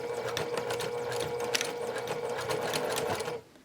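A sewing machine stitches a seam along the interior fold of a round drawstring bag, a close, steady mechanical whir with a rapid needle rhythm that winds down and stops at the very end.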